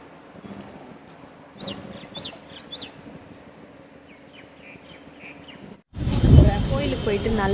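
A chicken clucks in a few short, sharp bursts over steady outdoor background noise, followed by a sudden louder rush of close sound near the end.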